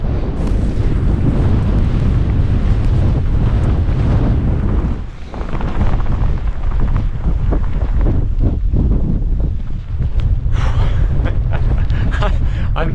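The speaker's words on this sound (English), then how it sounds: "I'm so ready to be out of the wind." Brutal mountain wind buffets the microphone in loud, roaring gusts, dipping briefly midway and near the end before surging again.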